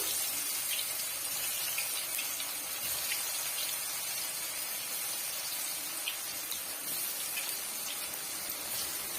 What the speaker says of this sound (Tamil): இப்ப நம்ம மிக்ஸ் பண்ணி வச்சிருக்க வாழைக்காய் பீஸுகளை சேர்த்துடலாம்